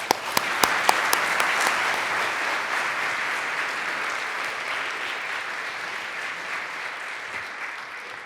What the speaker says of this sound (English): please help me give a very warm round of applause for Ambassador Samantha Power